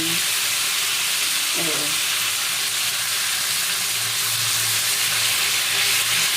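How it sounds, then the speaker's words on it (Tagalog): Chicken sizzles and crackles steadily in hot oil in a pan, a loud continuous hiss with a brief clink of a utensil early on. "nag-prito na tayo ng, ayan, yung chicken"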